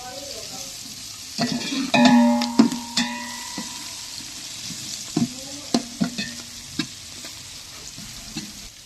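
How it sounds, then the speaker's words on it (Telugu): Green chillies, dried red chillies and coarsely pounded garlic paste sizzle and fry in a pan for a snack of corn dumplings, with a steady hiss broken by repeated sharp scrapes and clinks of a stirring spoon. "పచ్చిమిర్చి వేగిన తర్వాత ఎండుమిర్చి వెల్లుల్లి పేస్టు"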